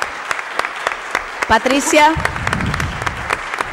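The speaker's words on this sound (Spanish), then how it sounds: "Quiero que si todos les pueden dar un aplauso." A room claps for a retiring employee, Patricia Smith, at her last session: steady, moderately close applause throughout, with a voice briefly speaking over it.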